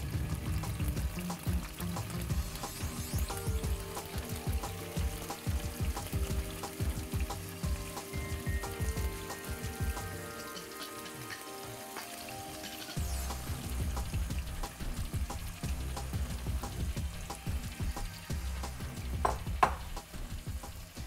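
Tofu sizzles steadily in a hot pan for pasta while it is pushed around, with repeated scraping and clinking of the utensil over the crackling hiss, which eases briefly midway before resuming.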